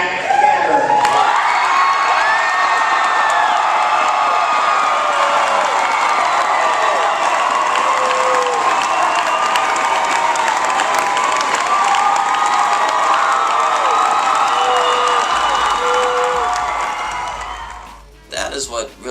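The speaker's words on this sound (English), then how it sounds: "the crowd saved the loudest applause for the last player announced" A large crowd roars with sustained cheering, whooping and applause at an award ceremony as the final player is announced, loud and continuous before fading out near the end.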